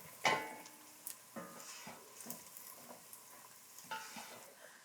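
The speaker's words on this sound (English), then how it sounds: "that has been simmering for a couple minutes" Broccoli cheese soup with a roux simmers in a pot, giving a faint, soft sizzle under scattered light stirring scrapes and small clinks spaced a second or so apart.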